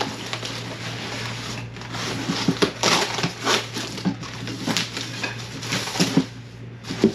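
A glass light dome is fitted onto a kitchen light fixture, giving irregular close scraping, grinding and clicking of glass against metal with brief sharper taps.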